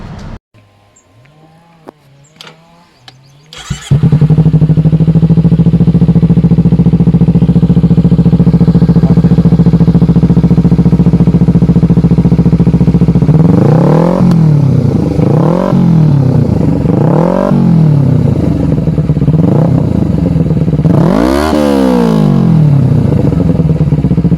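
A Kawasaki Ninja 300 motorcycle fitted with a JP Racing exhaust starts up and idles with a steady low rumble, then is revved repeatedly in sharp rising-and-falling bursts, loud and close.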